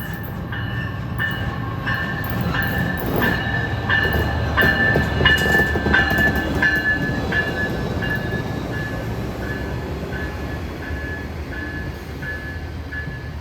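An Amtrak passenger train headed by a Siemens ALC-42 locomotive rolls in steadily, wheels clicking rhythmically over rail joints with a rumbling undertone, gradually slowing; no voices.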